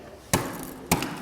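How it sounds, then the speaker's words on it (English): A frozen Brussels sprout dropped onto a table, two sharp, hard cracking impacts about half a second apart, close and fairly loud, with quiet room tone between. "I shattered my sprout."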